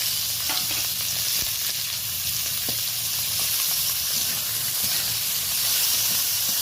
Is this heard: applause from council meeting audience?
no